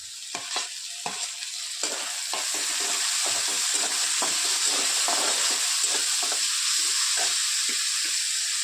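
Onion and tomato sizzle steadily in a hot pan for a dry potato and green pea dish, with a loud continuous fry and repeated scraping stirs throughout.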